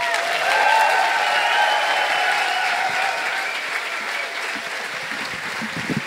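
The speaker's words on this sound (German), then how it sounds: "dein Applaus. Gönn ihn dir." Loud audience applause after a science slam talk, dense clapping at close range that peaks early and gradually thins out, with faint voices over it.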